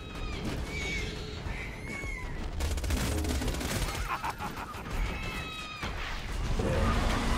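Rapid bursts of gunfire from Borderlands 2 played as Axton with a fire weapon, mixed with whining, chirping game effects, dense and continuous with no talk.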